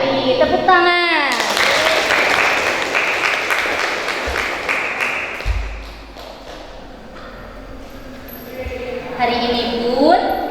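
A classroom of students clapping for a classmate named Sri Mulyati, a burst of close applause that fades after about five seconds, with a voice speaking at the start and end.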